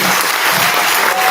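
Loud, thick applause from a school concert audience for the Chamber Orchestra and its conductor, a continuous roar of clapping with no break.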